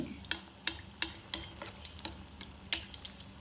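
Neyyappam fry in hot oil with a quiet, continuous sizzle. Sharp ladle taps and clicks land in an irregular rhythm about every third of a second, close by and without speech.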